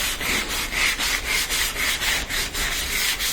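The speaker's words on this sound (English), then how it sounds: "we're going to do a little bit of light sanding to get some of that rust off" Close, loud rhythmic rasping of light sanding on a rusty metal appliance panel, with steady back-and-forth strokes repeating roughly every third of a second.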